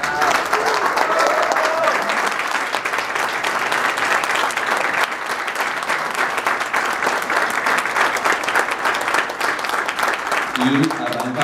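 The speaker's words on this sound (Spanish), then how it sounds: "un fuerte aplauso a mi papá que sigue trabajando a los 83 años" Audience applause at a press conference for Soundcheckxpo 2019, a steady sustained wash of clapping from a crowd filling the whole stretch, with a voice speaking over it.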